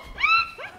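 A person imitates a dog with a short, high whimpering yip that rises and falls, then a second brief yelp, loud and close in a lively setting.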